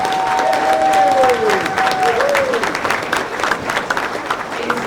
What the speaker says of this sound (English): can we get another big round of applause for our Mistress of Ceremonies, Ms. Kathy Gauthier.